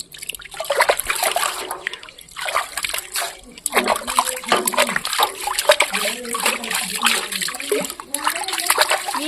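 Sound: washing a new clay pot with water

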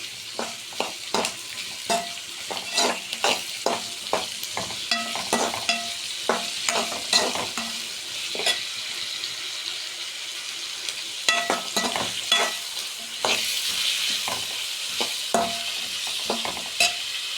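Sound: sautéing mushroom gravy ingredients in a pan

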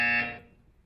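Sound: buzzer

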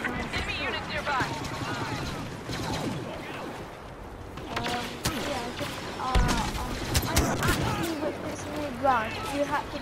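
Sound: DLT-19 blaster gunfire in Star Wars video game

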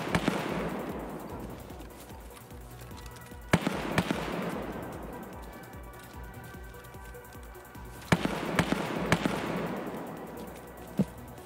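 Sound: gunfire in the video game Escape from Tarkov

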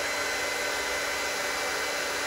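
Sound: hair dryer running

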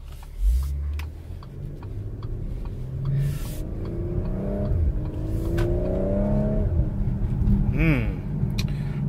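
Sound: 2016 Audi Q5 engine accelerating on drive

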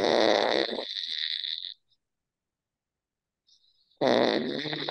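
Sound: imitated snoring

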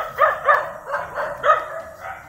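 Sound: dog barking

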